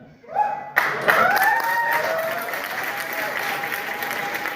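An audience at a motivational success talk bursts into applause after a sudden thump, sustained clapping with a few cheering voices mixed in, loud at first and then settling to a steady level.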